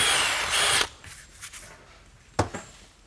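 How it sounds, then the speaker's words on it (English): A power drill with a spade bit bores a countersunk pilot hole, a loud steady whir for under a second that cuts off, followed by a few faint clicks and one sharp knock, with no talk. "That's how you properly drill a countersunk with your pilot hole drill bits."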